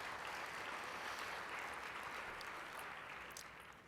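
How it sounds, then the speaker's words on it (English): An audience at a tech conference's lightning talks claps together in a dense, continuous wash of applause, heard faintly from a distance and slowly fading toward the end, with no talking. "Let's give him a round of applause."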